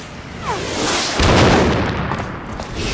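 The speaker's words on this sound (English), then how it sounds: "Little octopus torpedoes." Octopus-shaped torpedoes explode in Metal Gear Solid 2, a heavy booming blast with a rumbling low-end tail following a short whooshing launch, loud and close.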